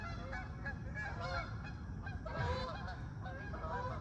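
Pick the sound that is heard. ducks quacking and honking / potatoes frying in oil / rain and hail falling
ducks quacking and honking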